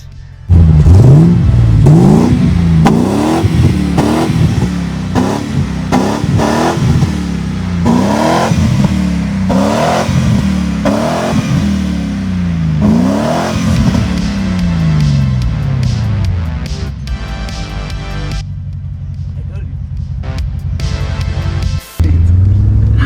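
A Range Rover engine with a Magnaflow exhaust from the headers revs repeatedly, throaty, rising and falling in a steady rhythm of loud blips, then settles into a lower idle rumble toward the end.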